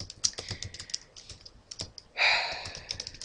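Rapid keystrokes on a computer keyboard while entering code for a C# programming lesson on selection control structures, with clustered clicks in short bursts and a louder sustained rustle partway through.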